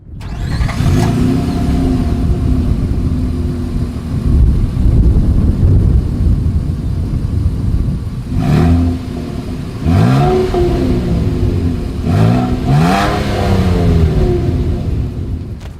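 Engine of a 2023 Nissan Frontier pickup revving through its single exhaust outlet, loud and close, with several rising throttle blips near the end over a steady idle.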